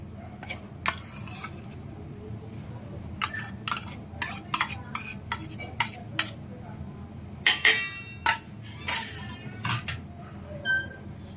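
Ginger garlic paste being stirred into a small fish curry in a pan, with a spoon scraping and clinking against the metal in irregular bursts close by over a low background hum.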